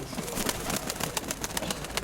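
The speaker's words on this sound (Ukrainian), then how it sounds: "Білий голуб. Голуб?" Pigeons cooing at an outdoor market in Pavlohrad, with a steady bustle of market noise and repeated short coos and bird calls throughout.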